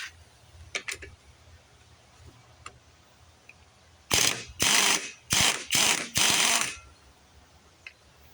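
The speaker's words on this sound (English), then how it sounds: "air wrench" A 1980s Blue Point air wrench driving bolts on a small outboard motor with thin-wall sockets, five loud, close bursts of rattling impact in quick succession, separated by short pauses, after a few faint clicks.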